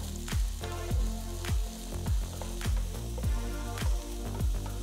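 Chopped onions frying in oil with whole spices in a kadai, a dense sizzle with rhythmic stirring strokes about once every half second, loud and close, no talking.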